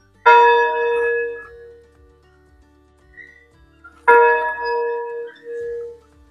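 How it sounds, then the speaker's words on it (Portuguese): Church bell rung once by hand at a small-town parish in Barracão, Paraná, Brazil: two bright, ringing strikes several seconds apart, each decaying slowly with a long metallic hum, heard alone without talk. "tocar uma vez o sino"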